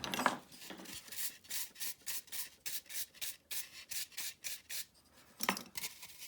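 A wooden tool carves foam in short, repeated rubbing strokes, a dry scraping that comes in a steady rhythm of bursts, close and fairly quiet, with a few sharper scrapes in between.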